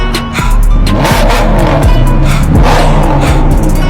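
A 2012 Maserati GranTurismo MC's 4.7-liter Ferrari V8 revs hard and loud up close, with repeated rising and falling sweeps of engine pitch as the throttle is blipped.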